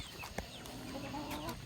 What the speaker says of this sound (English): Oop, there's a chicken.